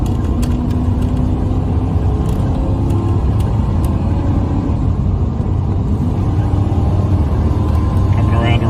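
A race car laps Charlotte Speedway with a loud, constant engine drone and road rumble filling the whole stretch, close and steady throughout.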